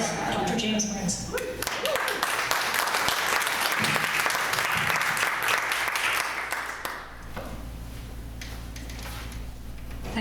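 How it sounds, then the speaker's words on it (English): A crowd applauds with dense, sustained clapping that fades out after several seconds, leaving a quiet room. "you can give him a round of applause, Dr. James Burns."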